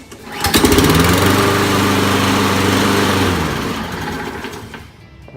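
Toro lawn mower engine, just repaired after a carburetor cleaning, catches after a pull-cord start and runs steadily with a loud buzzing drone for several seconds before tapering off.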